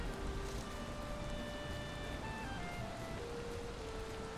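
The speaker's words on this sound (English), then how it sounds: "Oh man, rainy day." Rain falling in Valheim, a soft, steady wash of rain noise at low volume under faint, slowly gliding melodic tones.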